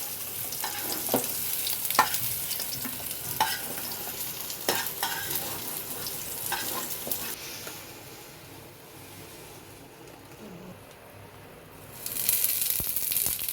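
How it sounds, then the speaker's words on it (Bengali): Cumin seeds and potatoes frying in a pan, a steady sizzle with sharp clicks and scrapes of stirring in the first half, quieter for a stretch, then a loud hiss of frying bursting back up near the end. "একটু সাজিরা ফোড়ন দিয়ে দিলাম, দিয়ে আলুগুলোকে একটু দিয়ে দিলাম"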